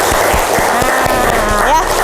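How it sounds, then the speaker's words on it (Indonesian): A class of students claps together, producing a short, steady burst of dense applause close by while a voice speaks over it. "Tepuk tangan dulu untuk Kang."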